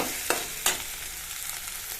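Onions and green chilies frying in a pan for a dill leaf bassaru, a soft steady sizzle with two brief spoon-stirring scrapes near the start, fairly quiet and close.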